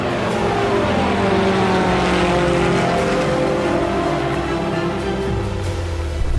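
Israeli-made Heron military drone in flight, a steady, loud engine drone with propeller hum and shifting tones, continuous throughout without any speech.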